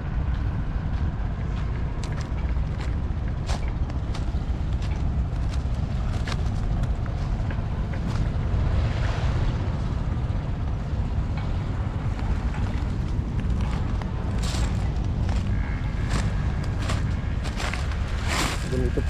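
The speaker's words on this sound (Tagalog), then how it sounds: "Ayan po yung bangka." Steady boat engine drone with water and wind noise, continuous and fairly loud, with occasional voices in the background, on a small boat near Dolomite Beach in Manila Bay.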